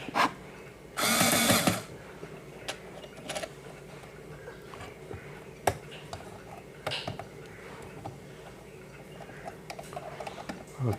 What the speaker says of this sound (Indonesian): Dan juga bagian belakang kita kencangkan kembali.